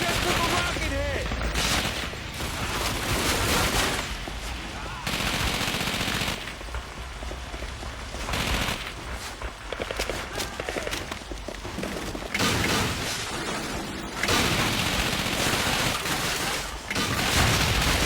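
World War II battle in the Call of Duty: Finest Hour video game, with dense, loud machine-gun fire, rifle shots and booming rocket explosions in continuous bursts, and soldiers' voices shouting through the chaos.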